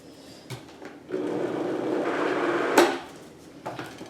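A food processor whirs through paleo lemon-lime cheesecake ingredients in a home kitchen, a steady grinding hum for a few seconds bracketed by knocks and clatter, close and without talk.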